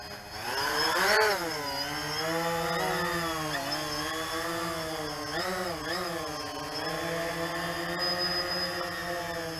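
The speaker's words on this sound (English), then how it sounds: "Man, brushless motor quad." Bayang Toys X16 Typhoon brushless-motor quadcopter taking off, a loud steady buzzing whine whose pitch rises and wavers as the motors speed up and throttle changes, close by and continuous, with no talk.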